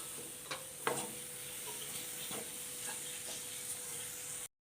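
Chopped tomatoes frying with masala in a pan for a Kerala yam curry (chena curry), giving a steady soft sizzle with a few clinks of a spoon stirring, close and alone.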